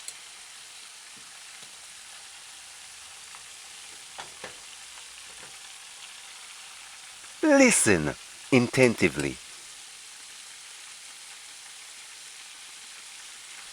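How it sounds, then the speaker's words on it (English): Chicken frying in oil for a restaurant batch, turned partway through cooking, gives a steady close hiss and crackle that runs the whole time, with a short burst of talk over it near the middle. "The sound of the frying is getting less near to the end."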